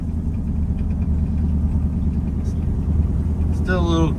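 A Ford Coyote V8 swapped into a 1972 F250 idles with a steady deep exhaust rumble close by, not yet fully warmed up, with a brief whine near the end.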